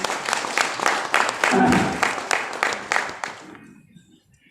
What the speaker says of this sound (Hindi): जोरदार ताली हो जाए एक बार सर के लिए।